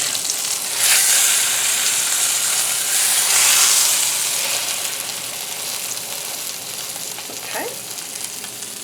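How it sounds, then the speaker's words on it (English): A beef roast sears over very high heat in an electric skillet, producing a loud, close, continuous sizzle that swells twice as the meat is moved and flipped, with a brief scrape and a short spoken word near the end. "that one's starting to get a pretty good sear on there"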